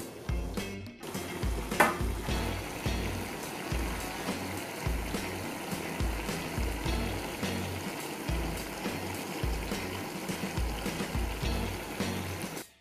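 Wine for seafood pasta simmering and bubbling in a pan, a close, continuous sizzle with a soft rhythmic low rumble, no one talking.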